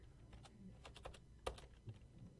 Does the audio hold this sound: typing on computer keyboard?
yes